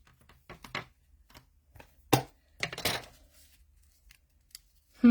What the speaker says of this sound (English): Now I want to stamp.